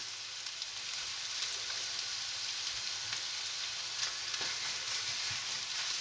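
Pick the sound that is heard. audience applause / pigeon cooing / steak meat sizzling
steak meat sizzling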